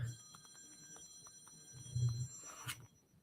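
A telephone rings in quiet, trilling bursts that repeat across the span, faint and slightly distant, with a murmur of low room sound beneath.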